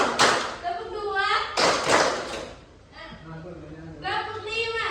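In a classroom, children clap along to a counted pattern: short bursts of a few hand claps alternate with a teacher's spoken counting.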